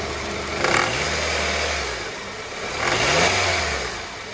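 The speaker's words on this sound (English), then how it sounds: "then it kicked in and it started spinning the compressor and making the AC system run" A Honda CR-V engine, checked for belt and tensioner noise, is revved twice in swells over a steady idle hum with a faint rattle. The AC compressor clutch engages during the runs, and the sound is close and without talk.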